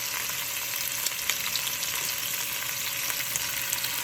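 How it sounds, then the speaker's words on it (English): Chorizo frying in hot oil as onions and peppers go into the pan, giving a dense, even sizzle that holds at a steady level from start to finish, close and without talk. "Look at this chorizo cooking, the smoke coming through. Alright, we're going to start adding the onions and the peppers."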